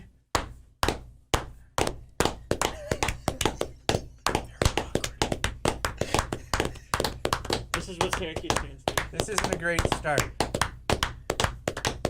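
One person claps hands steadily at a Syracuse basketball watch party, sharp close claps repeating in a regular rhythm that speeds up and grows denser, while people talk over them.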